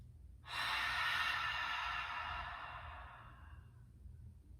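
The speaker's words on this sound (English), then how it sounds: "allow it to become an audible whispering sound" A single long, breathy ujjayi exhale through a constricted throat, a soft hissing whisper that starts abruptly and slowly fades, heard close and alone.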